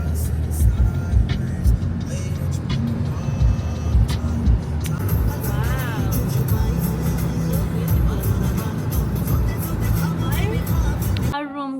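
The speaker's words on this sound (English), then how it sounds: "So we just got the car, Didi driving because she's the card holder," A rental car on the island of Madeira rumbles with a steady engine and road drone from inside the cabin as it drives, while people talk over the noise.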